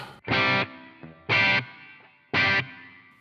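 Three loud, distorted electric guitar chords through a Blackstar St. James plugin, each struck and held briefly, with a splashy, bouncy spring-style reverb tail ringing after each one.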